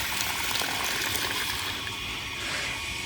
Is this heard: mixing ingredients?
no